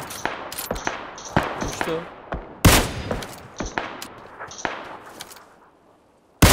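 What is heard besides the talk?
gunfire in the video game PUBG Lite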